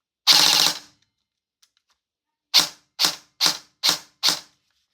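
A Jefftron Scylla ETU airsoft gun lets off one loud, close, rapid full-auto burst lasting under a second. After a pause, five single cracks follow at an even rhythm.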